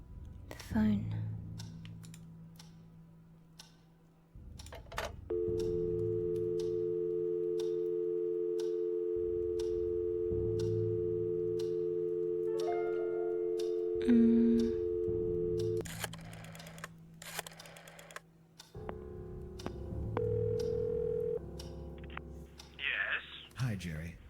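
A telephone tone from the Scratches horror game, a steady sustained hum lasting several seconds at a time, broken by clicks and keypresses, quiet and interrupted by short gaps.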